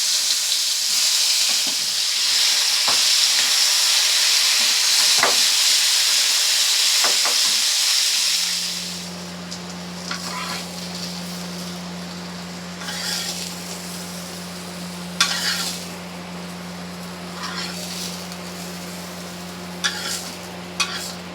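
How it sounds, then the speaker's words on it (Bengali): Teasel gourd pieces coated in turmeric and salt frying in hot oil: a loud, dense sizzle fades into a softer steady crackle and hum, with occasional sharp pops and stirring clinks. "তো এবার কাঁকরোলগুলো তেলে ভেজে নেব।"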